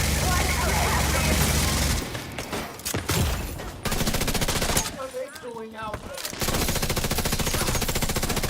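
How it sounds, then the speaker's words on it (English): Explosions and heavy gunfire from the shooter video game The Division 2, loud dense bursts filling most of the stretch with brief quieter gaps around the middle. "I'm just trying to evade all these bombs going off."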